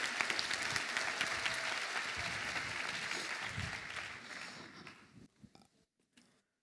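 Steady applause from an audience at a talk fills the hall, loud and continuous, then thins out into a few scattered claps before stopping.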